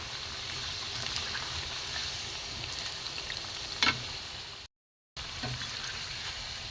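Rice flour pitha frying in oil over low gas, a soft continuous sizzle with a brief stir near the end, faint and close, broken by a short gap of silence.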